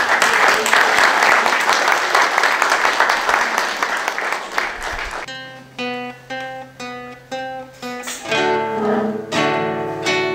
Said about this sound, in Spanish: Luis, te vamos a dar un aplauso